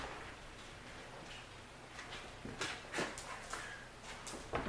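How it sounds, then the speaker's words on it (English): Dog whimpering faintly in the background of a quiet room, a few soft whines and shuffling movements rising toward the end, with no voices. "Dog wants to come out and hang out with his old man."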